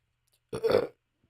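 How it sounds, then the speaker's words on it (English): A single short human burp, close and fairly loud, with silence before and after it. "Oh, pardon me. I got burps."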